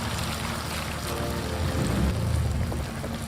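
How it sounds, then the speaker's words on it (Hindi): Water pours into a pot of vegetable pulao with a steady, close gushing splash that swells briefly in the middle, with no talking over it. "इसमें थोड़ा सा पानी और ऐड करूँगा"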